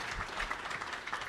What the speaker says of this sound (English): Let's give a round of applause to all of our panelists.